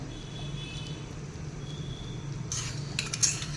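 Hot tadka tempering is poured onto cooked mixed dal with the gas off. A brief, sharp sizzling burst rises over a steady low background hum near the end, alongside a few faint clinks.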